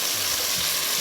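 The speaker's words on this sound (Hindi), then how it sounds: "इसको भूनना है अच्छी तरह से।" Marinated meat frying in an onion masala gives a dense, continuous hiss of sizzling oil, close and even throughout one brief second, with faint stirring beneath and no voices.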